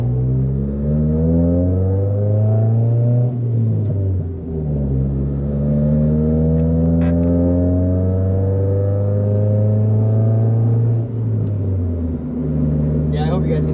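A Honda Civic EK on the move with a loud exhaust, a deep droning engine note that rises and falls through gear changes, close and dominant, with a voice talking over it.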